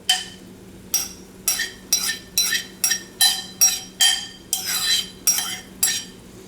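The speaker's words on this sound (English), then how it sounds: "now I'm just gonna toss that kind of all together" Rhythmic metal-on-metal clanks of a utensil tossing spaghetti ingredients with chopped tomatoes in a pot, about a dozen evenly spaced scrapes and knocks, close and loud, with no speech.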